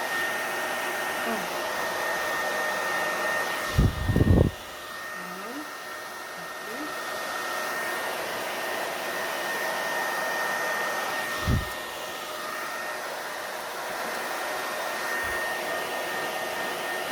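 A hair dryer blows steadily throughout a blow-dry styling, with a couple of brief low thumps as it is handled.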